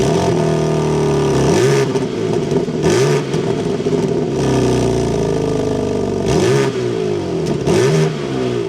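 A 2026 BMW M3 Competition's twin-turbo engine starts and revs, its loud, close exhaust rising and falling through several throttle blips over a steady idle.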